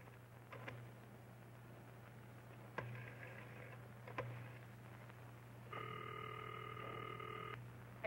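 An old telephone is dialed in a quiet room, with a few short clicks and tones followed by a longer steady tone, all fairly faint over a low constant hum.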